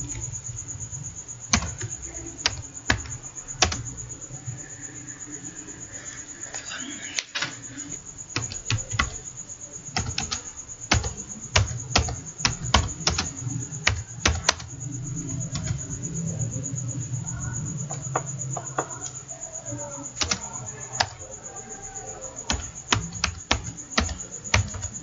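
Computer keyboard typing as text is entered, heard as irregular bursts of sharp, close clicks over a constant high-pitched background whine and low hum, with no talking.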